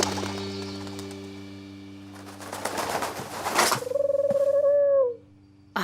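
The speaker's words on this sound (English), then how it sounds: "A homing pigeon with a computer chip attached?" A homing pigeon fitted with a computer chip gives a short coo near the end, preceded by flapping and rustling over a low background drone.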